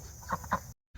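Two short quacking calls from newly arrived ducks kept on a farm as livestock, close and fairly loud, followed by a moment of silence.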